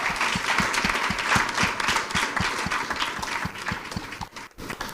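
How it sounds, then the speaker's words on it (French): A studio audience on a French-language talk show claps in strong, continuous applause, dense and close, with a few rhythmic accented beats running through it and no clear speech. "On applaudit très fort."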